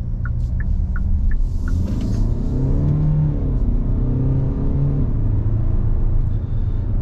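Inside a 2021 Hyundai Palisade SUV pulling onto a main road, a low engine rumble swells as it accelerates, steady and close with road noise, a few faint clicks early on.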